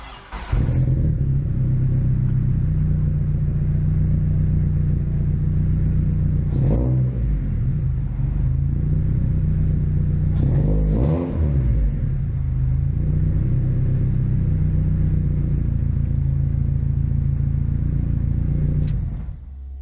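A Nissan B13 car engine cranks and catches, then idles with a steady low rumble for a long stretch, with a few brief rev blips along the way before cutting off at the end; no talking.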